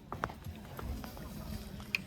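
Hooves of a Marwari or Kathiyawadi horse clip-clopping in a quick, uneven rhythm close by, fairly faint, with a brief voice in the background.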